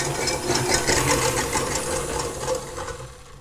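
Electric mixer running on high, whipping egg whites toward froth for macarons, a steady close motor whir with a faint rhythmic rattle and no voices.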